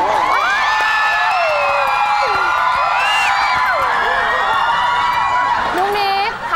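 Fans scream and cheer for a singer on a Thai game show, a loud sustained chorus of high-pitched shrieks and whoops from a crowd.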